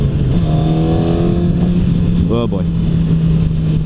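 A 2016 Suzuki GSX-R1000 sportbike engine drones steadily under way, with a rising rev sweep near the end, loud and close beneath wind noise, while a rider briefly speaks.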